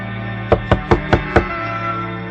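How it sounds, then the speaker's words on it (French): Five evenly spaced, loud knocks on a wooden door, close and sharp, struck by the wolf at the grandmother's house in a fairy-tale story, with a quiet hum behind and no talking. "il frappe à la porte"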